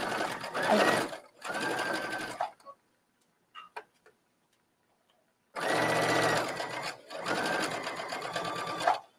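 A sewing machine stitches binding onto the neckline of a bathing suit cover-up, starting at the center back, in two long close bursts of steady rapid whirring separated by a quiet pause with faint clicks.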